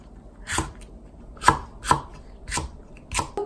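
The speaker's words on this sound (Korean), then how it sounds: "빨간 고추를 어슷썰기로 쓸 거예요" A knife slices red chili peppers diagonally on a cutting board, producing about six crisp, separate chops at an uneven pace, close and clear with no talking.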